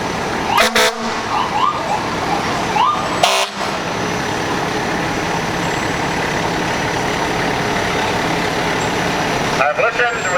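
An Asheville Fire Department fire truck rolls by in a small-town bicentennial parade, its engine rumbling steadily alongside brief horn and siren blasts at the start, middle and end, with a voice speaking over it.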